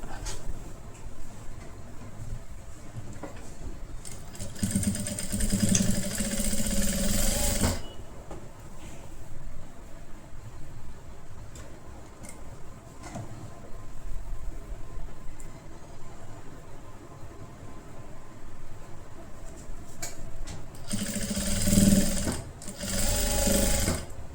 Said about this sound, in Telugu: ఒక సైడ్ నుంచి మనం ఫోల్డింగ్ చేస్తూ కుట్టుకుంటూ రావాలి.